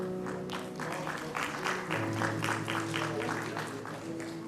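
An audience at a ceremony applauds, a faint, steady patter of clapping from many hands, with a constant background hum running beneath it.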